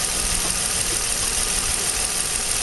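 A car engine runs steadily with the hood open, a dense, even mechanical drone with no change in pitch and no talk over it.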